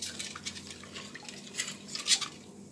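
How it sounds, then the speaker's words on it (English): A spoon stirs sugar into a Jamaican sorrel ginger drink. Light liquid swishes and small drips are broken by faint clinks against the container. The sound is quiet, close and brief. "Let me just stir this up."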